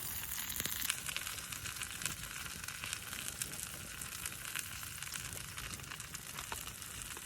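Food sizzles steadily over a campfire, a continuous close crackling fry with small pops throughout and no talking.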